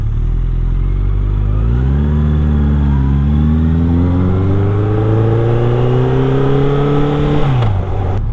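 Honda CB1100 motorcycle engine while riding, a steady loud drone whose pitch climbs smoothly through the gears with short dips at shifts, then falls off near the end.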